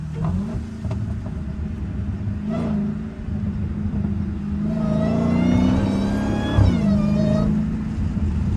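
A Dodge Hellcat drives through snow, its engine rumbling low and steady before revving up in a rising, whining sweep, then settling back, with the exhaust close and loud throughout.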